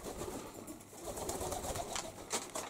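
A wild rock pigeon flies back and forth close by, its wings giving soft, rushing flutters over a dense outdoor background, with faint bird sounds and no talking.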